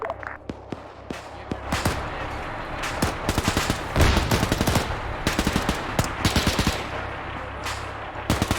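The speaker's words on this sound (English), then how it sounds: "Half track is suppressing." A half-track's machine gun lays down suppressing fire in a game, a rapid string of loud, sharp bursts repeating steadily over a low engine-like rumble, with a voice briefly audible.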